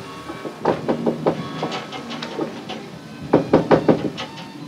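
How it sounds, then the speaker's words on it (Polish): Knocking on an apartment door in Wojciech Jerzy Has's film Pętla, heard as two clusters of sharp raps, the second set louder and closer together, with no speech over them. "Słyszymy pukanie do drzwi."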